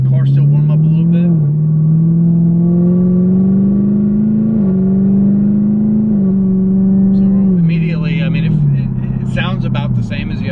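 Chevrolet Camaro ZL1 fitted with a Corsa intake pulls away under normal acceleration, its engine note rising steadily and loud up close, with a brief shift dip and a rougher, airy burst near the end.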